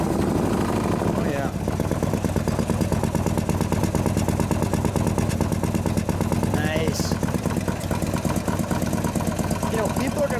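A 2015 Morgan 3 Wheeler's engine fires up with a sharp start and settles into a loud, lumpy, rapidly pulsing idle close by, with brief voices reacting over it.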